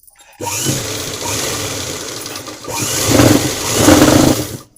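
A sewing machine stitches down a folded half-inch seam allowance in two bursts of close whirring, a brief pause between them, the second run louder and slightly faster, with no talking.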